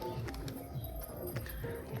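A pigeon coos in low, throaty, repeated pulses close by, steady and unbroken over the short stretch, with faint background noise.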